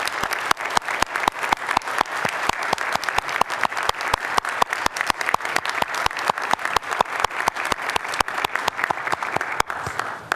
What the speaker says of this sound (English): I want to ask everyone to give her a round of applause